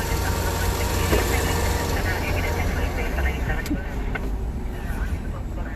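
A bus engine rumbles close by in city traffic, a loud, steady low drone that fills the whole stretch without letting up.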